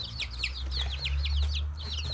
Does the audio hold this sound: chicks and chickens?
yes